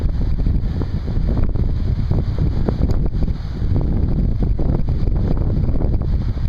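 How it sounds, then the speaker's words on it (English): Strong wind from Hurricane Isaac buffets the microphone on a front porch facing the water at Fort Walton Beach, Florida, a loud, continuous roaring rumble with gusty swells and no voices. "Still a little windy."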